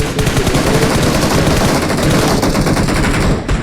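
Rapid automatic gunfire in a shooting video game deathmatch, loud and continuous bursts filling the whole few seconds with no talk over it.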